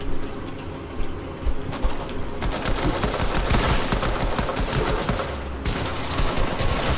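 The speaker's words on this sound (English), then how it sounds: "You're shooting through my wall!" Sustained rapid gunfire in a video game, loud and close, with dense bursts of shots punching through a wall over several seconds, no talk.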